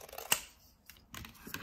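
Paper or card being snipped off with scissors during a puppy craft, a sharp close cut followed by a quieter snip and some light handling rustle, with no talking.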